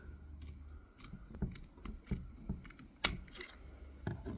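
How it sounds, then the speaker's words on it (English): Several sharp scissor snips cutting a stiff plastic tab on a Freelander 2 headlight mount, irregular clicks and crunches up close, with one louder snap near the end. "just a simple cut with the scissors"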